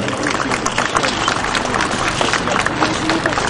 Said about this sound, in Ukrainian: Давайте привітаємо аплодисментами наших ветеранів.